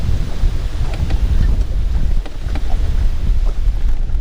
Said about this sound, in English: due to the wind, which is causing the leaves to be everywhere